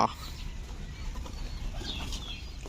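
Domestic pigeons flutter and shuffle nearby, with soft wing flaps and faint rustling against a low background rumble.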